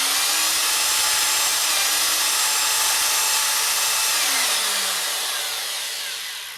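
A reamer cuts metal on a 1967 74ci Harley shovelhead motor part, giving a loud, steady grinding whine that runs unbroken for several seconds and then begins to wind down near the end, with no voices.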